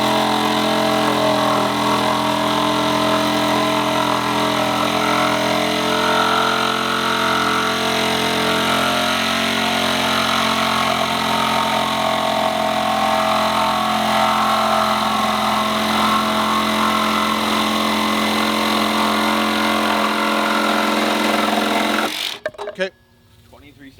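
A Milwaukee M18 Fuel Super Sawzall reciprocating saw cuts at full power, giving a loud, continuous motor whine and rasp that lasts more than twenty seconds. It then stops abruptly, followed by a brief rattle.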